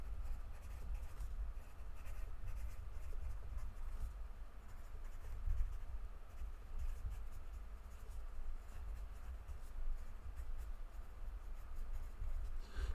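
Pencil or pen scratching steadily across paper while working a statistics problem, a continuous close, soft rasping texture throughout with no talk.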